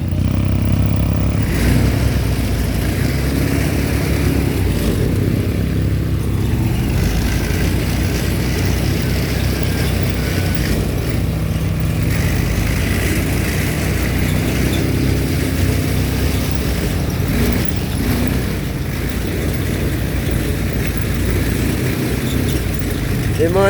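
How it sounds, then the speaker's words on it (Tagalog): Motorcycles ride fast along a rough route near Mayon volcano, their engines roaring loud and continuous, mixed with wind and rumbling. "Yung mga nag-extreme ride din dito ng mga motor, ang bibilis ng patakbo."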